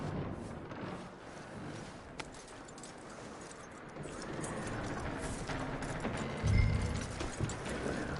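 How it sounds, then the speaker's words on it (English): Horse hooves clip-clop in the Red Dead Redemption 2 video game, soft rhythmic steps under a steady ambient bed, with one heavier thump near the end. "That looks like a decent horse."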